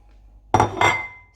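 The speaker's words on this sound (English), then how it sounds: "let's put it on a plate and get rid of the excess water" A poached egg is set down on a plate, giving two close clinks of dish contact a moment apart followed by a short ringing tail, with no talking.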